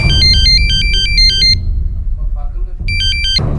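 A phone ringtone plays a repeating two-tone electronic melody, loud and close, stops for a moment with muffled background noise, then starts again.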